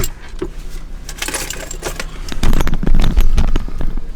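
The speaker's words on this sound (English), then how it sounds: "Put the keys away" Car keys are put away beside a big-turbo Audi RS3, a clinking jangle followed by louder rustling and shuffling handling noises, close by with no talk.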